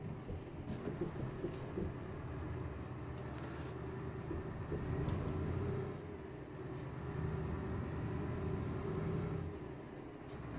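Hissing bursts of truck air brakes in Euro Truck Simulator, several short releases over a steady low engine rumble, fairly faint and with no talking.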